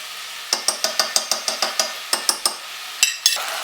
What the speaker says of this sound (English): the mince is now getting brown, so I'm just going to go ahead and mix it